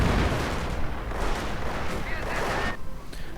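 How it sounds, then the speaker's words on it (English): Soviet heavy artillery from a fire base booms in a World War II strategy game, a dense rumbling barrage of shelling under continuous commentary. "We are seeing an artillery fire base right here. The deliverer of Soviet heavy artillery. Shells."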